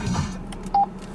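A single short electronic beep from the voice control system of a 2013 Ford Ranger XLT 4x4. It is a clean, brief prompt tone rising above a low cabin hum.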